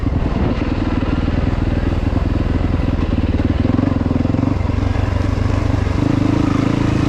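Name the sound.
2021 Yamaha YZ450FX motorcycle engine while riding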